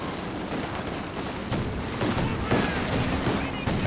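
Mortar shells and gunfire from a Company of Heroes 2 two-versus-two World War II strategy match, with dense, steady battle noise and repeated booming impacts throughout, no voice over it.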